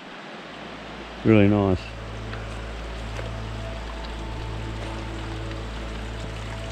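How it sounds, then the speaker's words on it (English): Mountain stream running over rocks, a soft continuous rushing that holds steady throughout, with a short spoken remark early on. "The sound of a stream running down through there."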